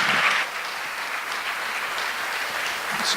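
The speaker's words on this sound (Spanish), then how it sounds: "le damos un fuerte aplauso a Carlos." An audience at a church conference gives a dense, steady round of applause that holds at an even level for about three seconds, with no voices over it.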